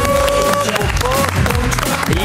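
Audience applause for contestants on a food contest show, gourmets versus restaurateurs: dense, close clapping that runs the whole short stretch, mixed with some cheering and voices.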